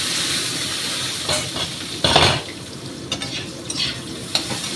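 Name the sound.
paneer curry ingredients frying in a pan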